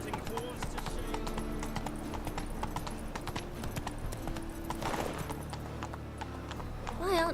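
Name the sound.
hoofbeats of the horse Roach in video game The Witcher 3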